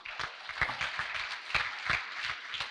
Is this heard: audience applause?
yes